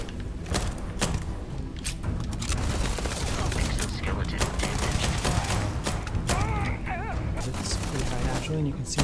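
Gunfire crackles through a firefight in the video game Starfield, dense rapid shots and thuds layered under continuous commentary from someone speaking over the game audio.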